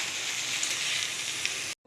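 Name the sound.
soaked rice stirred in sizzling pan for chicken biryani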